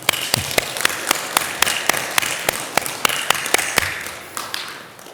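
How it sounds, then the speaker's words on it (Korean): Temple audience at a Buddhist dharma gathering claps, with sharp distinct hand claps in a loose, uneven rhythm, fairly close and sparse rather than a full ovation. "네, 박수 한번."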